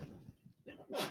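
A short, sharp sneeze bursts out at the end, preceded by a moment of quiet breathing and murmuring.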